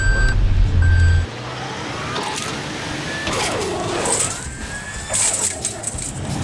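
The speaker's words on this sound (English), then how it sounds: "Don't know what that beeping is" An unexplained electronic beeping comes from a Holden Colorado ute, with a few intermittent high tones over engine rumble that drops after the first second.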